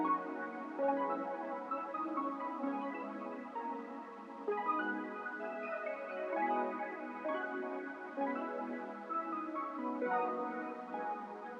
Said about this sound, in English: Then I use these pluck bell sounds with the same sort of chords